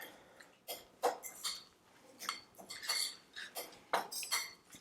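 Utensils mix ingredients in a bowl for a stuffed sweet potato filling, with close, irregular scrapes, clinks and knocks of metal against the bowl and no talking.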